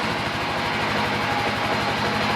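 A Kawasaki KLR motorcycle engine idles steadily nearby, off the choke, a continuous low, even chugging pulse.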